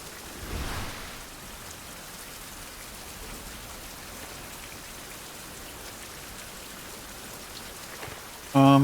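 Soft, continuous rain hisses in a survival video game, with a faint rumble early on and a short louder burst right at the end.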